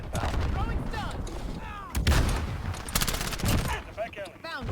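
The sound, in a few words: MP7 submachine gun hipfire in Modern Warfare 2019 video game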